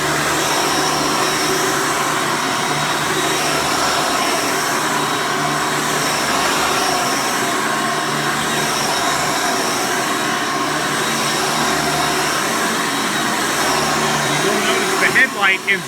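Hoover Soft & Light Elite Supreme U4266-940 upright vacuum cleaner with a 12 amp motor runs steadily and loudly, a constant whining roar throughout with a brief clatter at the very end.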